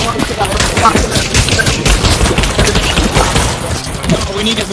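Rapid bursts of gunfire shot at a window in the VR game Dark RP VR, loud and dense, a fast rattling string of shots filling the whole moment.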